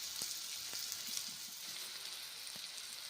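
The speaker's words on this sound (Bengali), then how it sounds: "এই যে 2 পিঠ ভালো করে ভেজে নিচ্ছি।" An oats and green pea snack fries in a pan with a soft, steady sizzle and a few faint clinks and stirs, heard quietly and without talk.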